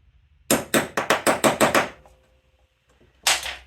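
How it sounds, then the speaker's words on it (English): A small, worn hand hammer taps on a Suzuki GT185 two-stroke twin carburetor from a barn find: a quick run of about eight sharp, evenly spaced metallic knocks, then a pause and one more close tap. "My busted up little junk hammer that I had for years."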